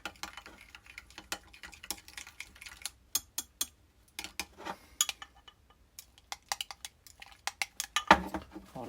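A spoon stirring a soft plastic crawfish lure mixture in a container gives irregular light clicks and taps, sharp and close, in uneven bursts with quiet gaps between.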